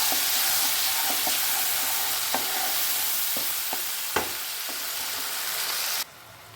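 Tomato paste fries in hot oil with cumin and ginger paste in a pan, giving a steady close hiss broken by sharp scraping stir clicks before the sizzle suddenly drops away near the end.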